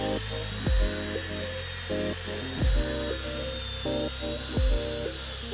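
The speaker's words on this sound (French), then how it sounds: "Percez les trous des chevilles perpendiculairement aux planches" A power drill whirs in repeated short bursts boring dowel holes into wood boards, spinning up and winding down every second or two against a steady hum, with no talking.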